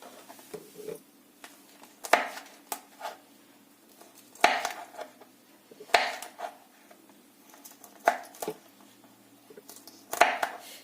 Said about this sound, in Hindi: ऐसे हम छोटे छोटे टुकड़ों में काटेंगे